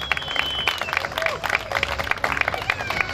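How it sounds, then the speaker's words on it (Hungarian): Applause from a rally crowd for the winning Lada 2107 crew at the Budapest Rallye, a dense patter of clapping with a faint whistle and voices mixed in, fairly close and continuous. "úgyhogy jár nekik a taps"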